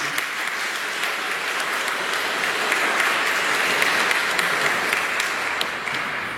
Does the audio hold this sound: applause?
yes